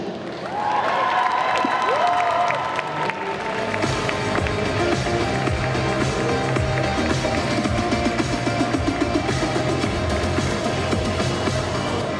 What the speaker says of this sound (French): je vous demande d'applaudir bien fort les personnages de Gohan et Chi-Chi